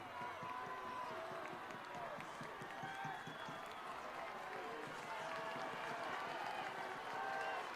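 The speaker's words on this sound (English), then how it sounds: "Crowd starting to get into it, showing some noise. You can hear them. Luers fans." Luers fans at a high school football game against Wayne make a steady, distant crowd roar from the stands, with scattered clapping and voices blending into a continuous wash for several seconds.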